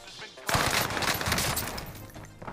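Gunfire in the Fortnite video game, a sudden loud burst of rapid automatic shots starting about half a second in and rattling on continuously, with faint voice sounds underneath.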